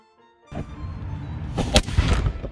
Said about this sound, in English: the initial ignition travels down the vent and then burning the main charge that produces the force required to expel the ball